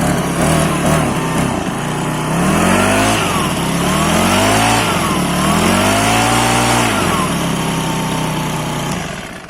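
A Stihl FS 90 brushcutter engine runs loud and close, revving up and down in repeated rising and falling surges with a steady idle beneath.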